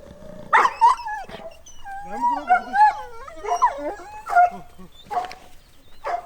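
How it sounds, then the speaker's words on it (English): A dog at St. George Monastery in Georgia howls and whimpers close by, a rising and falling series of wavering, plaintive cries interrupted by short yelps, with no talk. "It seems there is a good dog in the monastery, but Mira is not taking any chances."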